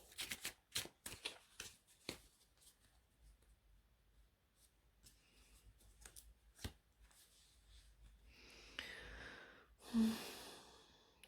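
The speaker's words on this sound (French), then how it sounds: "nous allons tirer des cartes du Dixit" Dixit game cards being shuffled and drawn at a table: a few quick crisp riffles and slaps early on, then quiet handling and soft sliding of cards, close and fairly faint, with a breath near the end.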